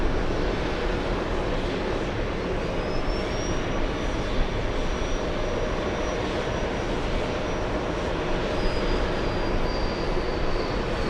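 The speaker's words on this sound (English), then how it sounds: "Next one taken off is a special livery." An airliner in Breast Cancer Research Foundation special livery takes off from JFK Airport, bound for Los Angeles, its engines a steady broadband roar lasting throughout, moderately distant and without talk.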